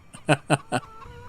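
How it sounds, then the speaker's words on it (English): Free-range chickens cluck close by, three distinct, evenly spaced clucks in quick succession, followed by quieter background sound. "And free-range chickens, as you see."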